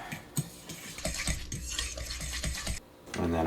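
Spoon scraping and clinking against a bowl while mixing meatloaf seasonings, including onion powder, for a moose meatloaf; a run of close, rhythmic stirring strokes with brief pauses.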